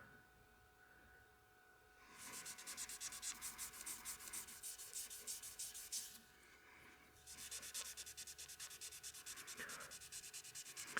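Sandpaper works over a cured CA glue finish on wood in two long bursts of rapid back-and-forth rasping, close and steady, with a short pause between them and no talking.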